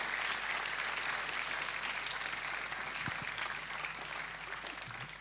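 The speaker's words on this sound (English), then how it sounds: "if you want to clap, you can clap" A church congregation at a live-streamed service breaks into sustained applause, a steady wash of clapping filling the room for several seconds and tapering slightly toward the end.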